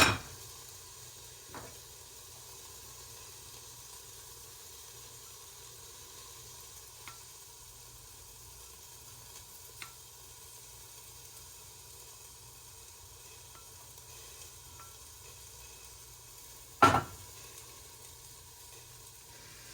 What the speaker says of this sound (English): you can hear that create the steam once it hits the hot pan